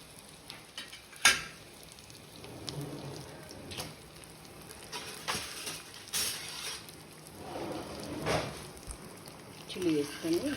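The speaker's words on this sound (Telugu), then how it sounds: "చిల్లీ వేసుకొని మంచిగా ఫ్రై చేసుకొని, ఇది ఫ్రై అవుతున్నప్పుడు కొంచెం ఆనియన్" Garlic, red chilli and tempering seeds fry in a mix of oil and ghee, giving a soft, steady crackle and sizzle. A sharp utensil clink rings out early, and scattered stirring clatter follows throughout.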